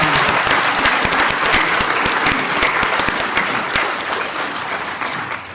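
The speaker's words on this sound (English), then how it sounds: "please join me in a round of applause to congratulate the instructors and the students" Loud, sustained audience applause at a fall commencement ceremony, a dense wash of many hands clapping that holds steady and eases slightly near the end.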